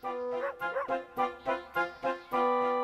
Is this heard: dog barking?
yes